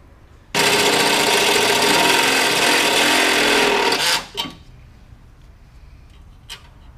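A power drill enlarges a hole, whirring steadily at full speed for several seconds, then winds down and stops, followed by a quiet pause and a faint click.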